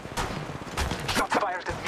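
Gunfire in the mobile shooter Apex Legends Mobile: loud, dense bursts of shots and impacts crowding a two-second stretch, with game voice chatter mixed in.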